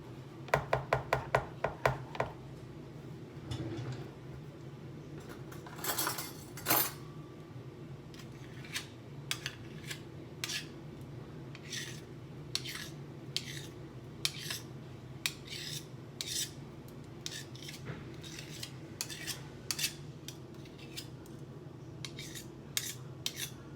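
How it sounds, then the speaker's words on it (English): A baking mixture stirred in a bowl with a blender makes a steady run of close scraping and rasping strokes with sharp clicks, busiest at the start and then settling into a looser rhythm, with no voices. "So I'm going to give it a couple stirs with the blender."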